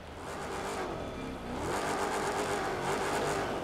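A stock car's engine in the racing game The Crew 2, heard from inside the cabin: a loud, steady droning hum that dips briefly and then swells back with a stronger revving tone. No one speaks.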